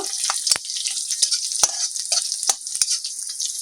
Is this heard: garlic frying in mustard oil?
yes